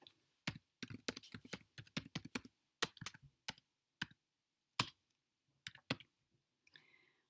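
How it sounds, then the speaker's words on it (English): Typing on a computer keyboard to enter a formula into a spreadsheet, with a fast burst of sharp key clicks followed by slower, scattered keystrokes, close and alone with no talk. "we type in our letters"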